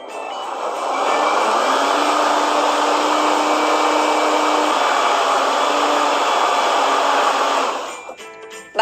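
Electric mixer beating cake batter with sugar, a steady loud whirring drone that holds for about seven seconds with a slight pitch shift midway, then cuts off abruptly.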